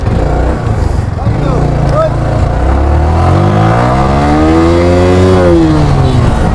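A Yamaha R15 motorcycle engine revs up close, its pitch climbing and falling through several throttle blips before rising to a sustained high rev near the end.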